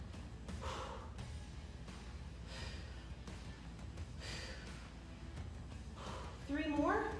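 Breathy exhales and gasps during dumbbell floor presses, recurring with each repetition, fairly soft and close under steady background noise, with a voice talking at times.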